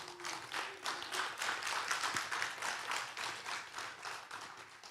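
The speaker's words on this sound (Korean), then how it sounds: "박수 좀 부탁드립니다" Applause from an audience at the opening ceremony of an international economics conference in Jeonju, with rhythmic, fairly distant clapping that holds steady with a few louder surges.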